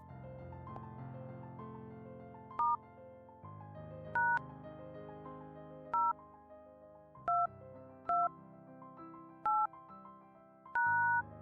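Phone keypad tones beep as a code is typed into the dialer, seven short separate beeps at uneven intervals over quiet background music.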